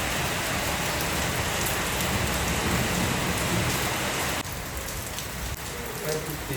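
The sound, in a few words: rain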